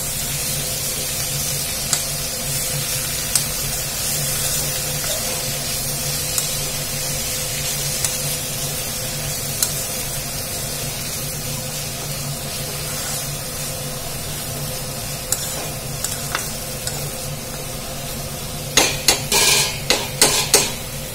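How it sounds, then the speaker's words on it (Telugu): Drumstick leaves (moringa) being stirred in a pan for a tomato curry: a soft, steady sizzle and hiss with occasional faint scrapes, then a cluster of louder utensil clatters near the end, no voices. "మునగాకు వేసుకున్న తర్వాత ఒకసారి అయితే మంచిగా కలిపేసుకుందాము."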